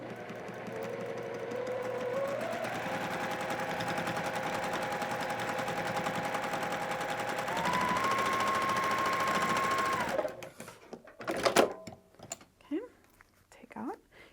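A sewing machine stitching quilt foundation piecing runs steadily for about ten seconds with a close, even mechanical whir that rises slightly partway, then stops, followed by sparse handling clicks and rustles.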